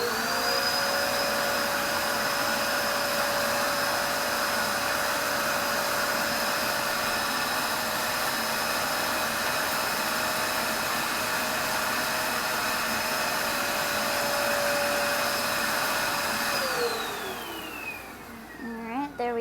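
Vacuum cleaner drawing air through a homemade mask with its hose attached inside, a steady loud whine and roar held for about sixteen seconds before the motor winds down and fades at the end.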